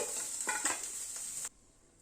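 Potatoes and cauliflower frying in a pan over a lowered gas flame, a steady bright sizzle with a few stirring scrapes, close up, cutting off abruptly near the end.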